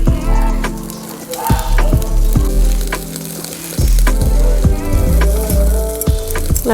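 Chicken sizzles loudly in hot oil on a grill, coated in garam masala, garlic, ginger and coriander, with a constant crackling spatter broken by occasional knocks and scrapes of handling.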